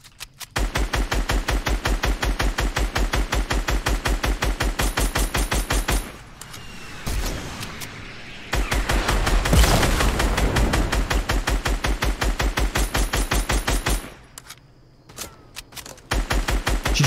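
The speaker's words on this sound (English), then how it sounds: "Shooting at me, Tuck." Rapid automatic gunfire in the Fortnite video game, long sustained bursts of evenly spaced shots broken by short pauses, loud and close, with no talking.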